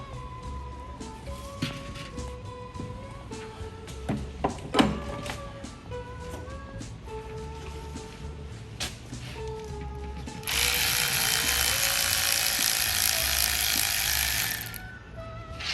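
A wrench ratchets bolts loose from the inspection cover on a 1930 Ford Model A engine, a series of clicking ratchet runs ending in a louder sustained hiss-like burst, fairly close.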